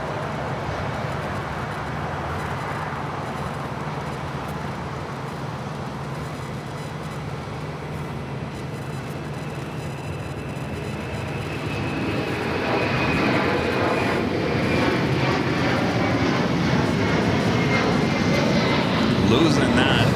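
A Latam Airlines Boeing 767-300ER rolls down the runway at LAX on its takeoff run, its jet engines a rumbling roar that builds and grows louder toward the end, with a voice talking over it.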